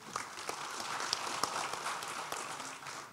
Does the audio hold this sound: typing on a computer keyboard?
no